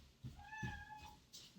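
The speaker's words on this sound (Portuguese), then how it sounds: "porque senão a gente vai ter que ficar ouvindo miado" A single drawn-out cat meow close by, preceded and followed by a few soft thumps.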